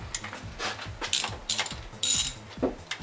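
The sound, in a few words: 3/8 ratchet with 10mm socket loosening ignition coil bolts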